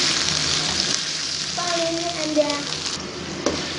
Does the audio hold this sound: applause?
no